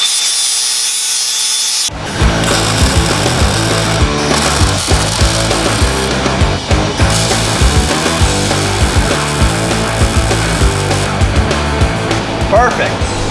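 Angle grinder cutting into the steel frame of a drift truck in a garage, a loud continuous abrasive whine and scraping that starts abruptly and runs steadily for the rest of the clip.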